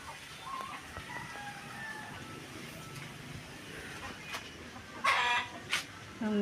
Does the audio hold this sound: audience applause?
no